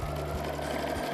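Rapid, steady mechanical chatter of a sewing machine running close up, stitching around a flower-shaped fabric pincushion in one short continuous burst.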